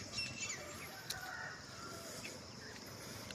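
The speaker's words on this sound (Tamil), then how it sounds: "காக்கா குருவி சத்தம்லாம் காலையில்" Faint crow and sparrow calls and chirps scattered over a steady morning outdoor background hum, distant and sparse.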